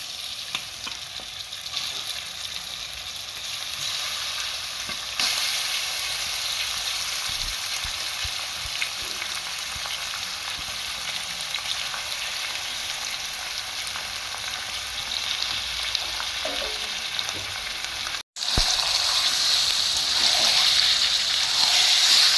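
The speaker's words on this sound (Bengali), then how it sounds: "এবার আমি এর মধ্যে ম্যারিনেট করা চিকেনটা দিয়ে দিলাম।" Marinated chicken frying in a pan with fried onions: a loud, continuous sizzle and crackle that holds steady throughout, with occasional stirring shuffles and a brief drop before the hissing resumes.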